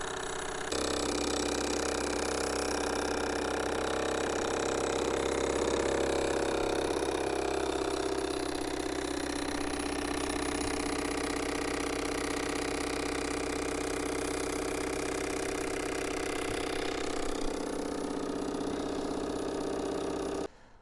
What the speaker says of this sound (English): You can just see how much faster this engine is than the Jensen.